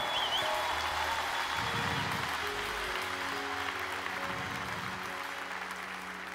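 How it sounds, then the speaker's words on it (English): Church congregation clapping their hands together at a worship session, a fairly soft, steady wash of applause lasting several seconds with a few low murmurs underneath. "give the Lord a hand clap right there"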